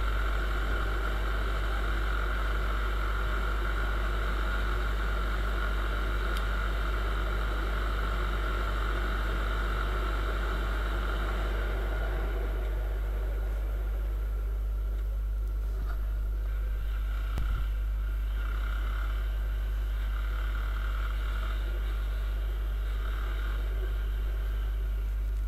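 A Viper 200 motorcycle runs hard at speed with a steady, loud drone and heavy wind rush throughout, the engine tone thinning and easing somewhat in the latter half.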